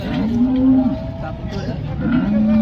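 Cows at a cattle market moo loudly and close by, one long low call followed by another starting near the end, over a busy crowd background.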